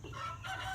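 Several farm chickens clucking with a rooster crowing close by at feeding time, a busy continuous run of calls with no talking.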